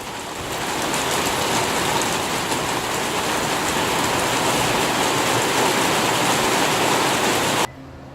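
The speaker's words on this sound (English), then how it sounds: "I think the rain has stopped and we can continue now." Steady rain falls over a spring fruit garden with tomatoes and bougainvillea, a dense continuous hiss close by that cuts off abruptly near the end.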